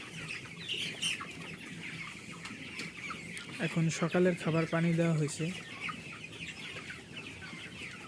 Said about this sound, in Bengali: এই জায়গায় আমার পাঁচশো ব্রয়লার মুরগির বাচ্চা আছে